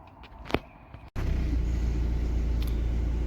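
After a few faint clicks and a brief silence, a Dodge Neon's engine starts after a camshaft position sensor replacement and settles into a steady, loud, close idle rumble.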